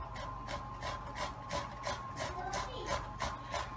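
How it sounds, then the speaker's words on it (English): Boiled potatoes shredded on the wide side of a box grater, a quick regular run of rasping strokes, about ten in four seconds, close and moderately quiet. "I'm just going to shred them on the wide side of a box grater"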